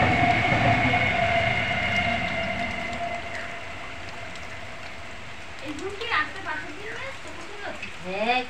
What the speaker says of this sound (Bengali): ওই ট্রেন ট্রেন ট্রেন ট্রেন যাচ্ছে